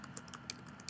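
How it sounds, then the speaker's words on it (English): Keys clack on a computer keyboard while a typeface is being set for text in Photoshop CS6, several quick taps spaced unevenly across a second, close and fairly quiet. "So I'm going to type."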